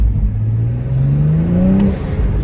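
A 2020 BMW M340i xDrive engine revs up steadily in a rising pitch sweep, close and loud, with a crackle near the top of the rev.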